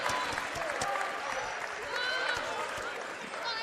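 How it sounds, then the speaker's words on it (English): Basketball crowd in a college gym cheering and clapping during a men's game, a dense continuous roar with whistles and shouted voices over it. "The crowd is coming to life now."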